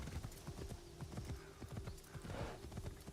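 Horse hooves clop at a steady galloping rhythm in the Assassin's Creed Shadows video game, close and distinct over a faint bed of game ambience.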